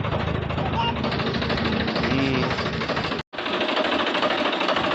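A tractor engine chugs loudly and continuously nearby in a farm field, with a rough rhythmic knocking; the sound briefly drops out once before resuming.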